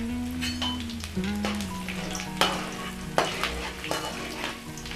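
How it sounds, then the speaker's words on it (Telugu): Mustard and other tempering seeds with dried red chillies and crushed garlic sizzle in hot oil, crackling and popping steadily while a spoon scrapes and stirs the pan with a few sharp clinks. "తాలింపు గింజలు అన్ని వేసుకొని ఒకసారి బాగా కలుపుకోవాలండి"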